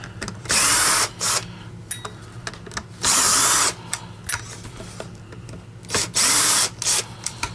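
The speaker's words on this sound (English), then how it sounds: "Alright, so now we've exposed some T10 screws. We're going to undo them." A power drill driving out T10 screws on a Dyson Small Ball DC50 upright vacuum, three short whirring bursts spaced a few seconds apart with quiet handling noises between them.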